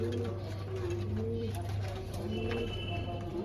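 Pigeons coo in low, repeated soft calls close by, over a steady low hum with faint background noise.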